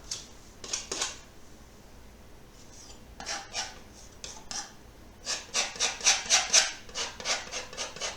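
A painting tool scrapes paint across a canvas in a live painting session, a series of dry raspy strokes, a few scattered at first and then a quick rhythmic run of scrapes near the end, close and with no talking.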